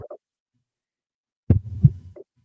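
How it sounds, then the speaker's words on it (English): A heartbeat sound effect plays as a single pair of deep, muffled thumps, loud and isolated, with faint bits of a voice before and after. "That's a heartbeat. That's the telltale heart."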